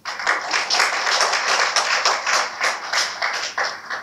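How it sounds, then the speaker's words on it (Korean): An audience at a policy debate forum claps for a keynote speaker, a lively round of many hands swelling and pulsing in waves for several seconds, alone without talk. "오늘 기조연설을 해주실 우리 이철우 경북지사 후보님께 큰 박수 부탁드립니다"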